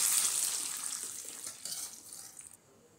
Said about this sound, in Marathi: तर हाच तडका आता मी या कढईमध्ये टाकून घेत आहे.